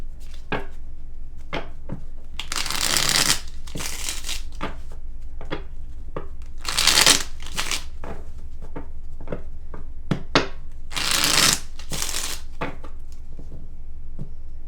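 Tarot cards are shuffled in several short bursts of riffling and soft slapping, separated by quiet gaps and light taps, with no talking.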